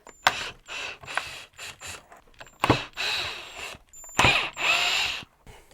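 A drill bit whirs and grinds against stubborn screws in an old one-of-a-kind clock, running in several short bursts of a few seconds each with pauses between, close and fairly loud.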